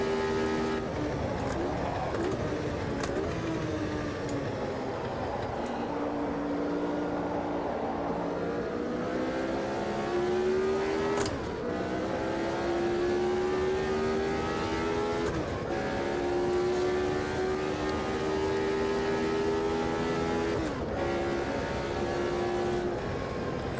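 Race car engine lapping Monza in the Automobilista 2 racing game, a steady loud drone rising through the gears with sharp shifts and downshifts under braking, continuous throughout with no talk.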